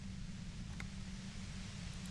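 Steady radio static hiss in the video game Disco Elysium, a faint continuous wash of noise with a low hum beneath and a couple of brief ticks.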